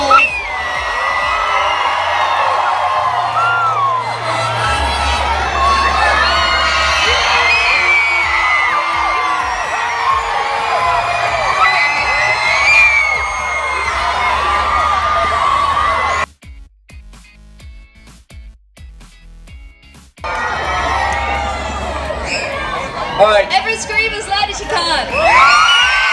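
Young audience at a lively Welsh kids' show event cheering, whooping and shouting loudly for about sixteen seconds, a short quieter break, then the crowd noise rising again, with a presenter's voice over music.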